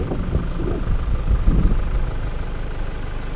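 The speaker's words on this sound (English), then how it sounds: "You can hear the truck's ZD30 engine" A Nissan truck with a ZD30 engine idles outdoors on a coastal road, a low, steady rumbling chug heard from outside the vehicle, with no talk over it.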